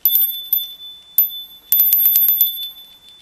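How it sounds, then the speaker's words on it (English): A small altar bell rings with bright, high metallic tones: a few separate strikes at first, then a quick cluster of rapid jingles, clear and close in a quiet room. "And then my bell."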